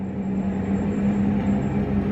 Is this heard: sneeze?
no